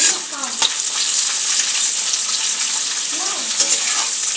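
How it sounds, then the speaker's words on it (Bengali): Beans, carrots, cashews and raisins fry in hot oil with a loud, steady sizzle and hiss, with a couple of brief stirring scrapes partway through and no talking. "তো আমি এখানে সব কিছুটাই ফ্রাই করতে দিয়ে দিচ্ছি"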